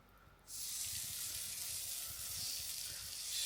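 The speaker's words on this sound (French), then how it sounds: "on a l'appareil juste ici en train de chauffer" A waffle iron for Mickey-shaped waffles heating up, a steady hiss that rises suddenly after a brief quiet start and holds at a constant level, close and alone.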